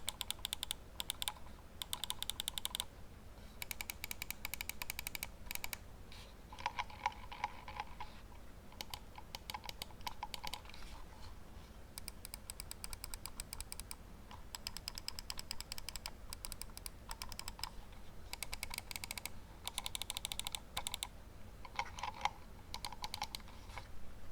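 A budget wired Redragon mouse from the S107 combo set clicks in rapid, close bursts of sharp ticks, separated by short pauses, with no one talking.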